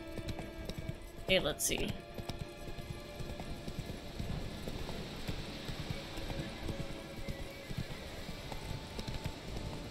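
Roach, a horse in a video game, clip-clops along at a lazy walk with steady hoofbeats under game ambience, while a person speaks briefly near the start.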